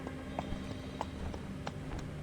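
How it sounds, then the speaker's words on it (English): Clip-clop hooves of a strange horse-like creature rush in during a Reverse 1999 game scene, a steady run of sharp, fairly close hoofbeats over a low background hum, with no voices. "a bizarre horse or something like it rushes in behind him"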